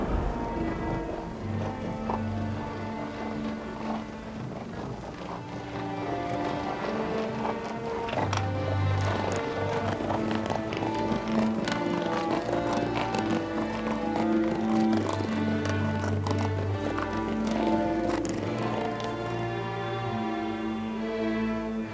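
Horses' hooves from a horse-drawn carriage clip-clop steadily for the whole stretch, blended with a sustained musical backing.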